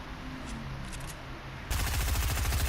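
Video game gunfire breaks out partway through as a rapid, steady automatic burst, loud and close after a quieter stretch of game ambience.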